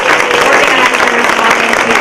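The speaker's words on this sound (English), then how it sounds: "give them a big round of applause" A crowd at a college event applauds steadily, dense overlapping claps filling the whole moment at a fairly loud, even level.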